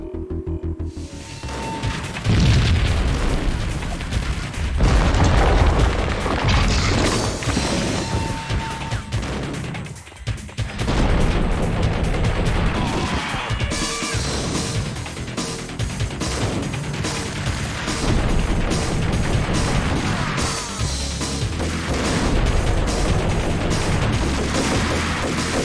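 Sustained gunfire in the Max Payne video game, dense loud bursts and crashes running almost continuously with a short lull near the middle, layered over game sound.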